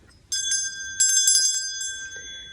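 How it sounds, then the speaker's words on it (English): A small hand bell used in a goddess ritual rings out clearly in two struck bursts, each leaving a long, pure, shimmering tone that fades slowly in a quiet space with no talking. "Where's my bell?"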